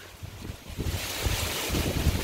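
Strong wind buffets the microphone outdoors in an orchard, a steady low rumbling roar with gusty swells and no talk.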